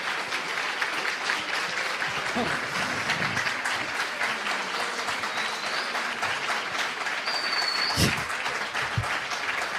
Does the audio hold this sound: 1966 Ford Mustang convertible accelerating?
no